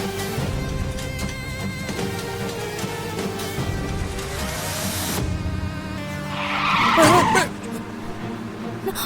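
A car skids while driven recklessly, its tires squealing briefly over steady engine noise and background music. Agitated voices shout nearby.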